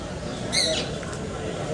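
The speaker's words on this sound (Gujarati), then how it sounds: "પોપટું બોલે છે" A single bright, shrill parrot squawk cuts briefly through a noisy background, sharp and fairly close.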